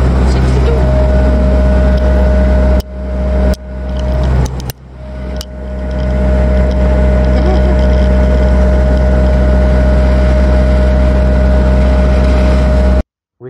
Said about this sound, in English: Now we're driving 60 on the highway.